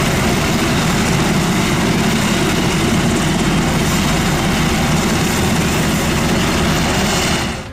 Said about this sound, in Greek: Είναι η στιγμή που διασωστικό ελικόπτερο επιχειρεί πάνω από τα μανιασμένα κύματα της παραλίας του Μύρτου στην Κεφαλονιά